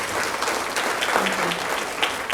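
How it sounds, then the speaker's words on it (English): Audience applause at a foundation launch event, a steady dense wash of clapping from a crowd that carries evenly through the whole stretch without pause. "Let's give her a round of applause."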